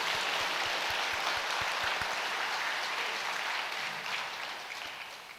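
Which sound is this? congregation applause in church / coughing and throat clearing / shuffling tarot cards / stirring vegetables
congregation applause in church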